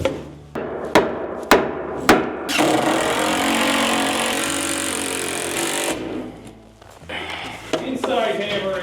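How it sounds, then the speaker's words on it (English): Hammering indoors on a roof build, four sharp, resonant blows at a steady beat, followed by a long loud grinding or cutting noise and a few more knocks, with people talking nearby. "Inside hammering, George."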